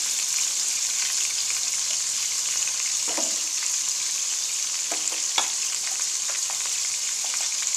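Frozen minced meat (keema) with garlic paste sizzles steadily in a pan over a low flame, a constant close frying hiss broken by a few soft stirring clicks, with no talking.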